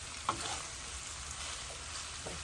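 A Spanish-style salted cod dish sizzles softly in a pan, with a brief stirring scrape near the start of a short, quiet stretch.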